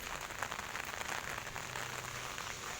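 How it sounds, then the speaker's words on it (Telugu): Steady rain falling on a surface, a dense soft patter throughout, fairly quiet and unbroken. "చూడండి, వర్షం మాత్రం ఉండి ఎక్కువైపోతుంది, ఉండే పడిపోతుంది"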